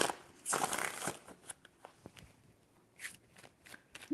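Tarot cards being shuffled by hand, with a riffling burst at first followed by a string of softer, irregular flicks and card snaps, close and fairly quiet with no talking.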